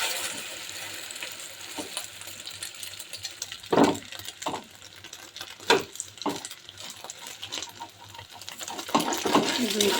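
Two eggs frying together in a pan, a steady sizzle with occasional louder scrapes and stirs of a utensil, and background talk present.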